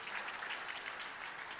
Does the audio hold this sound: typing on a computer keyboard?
no